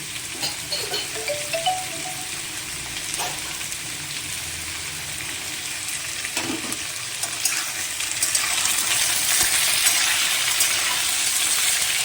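Potatoes and ridge gourd frying in oil with panch phoron for jhinge aloo posto: a continuous sizzle that swells louder in the later part, with occasional clinks and no talking.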